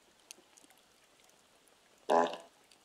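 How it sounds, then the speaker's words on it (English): An elephant fart sound effect played through an Echo Dot smart speaker by a fire at night, one short loud blurting burst standing alone against quiet background with a few faint ticks. "Elephant fart again."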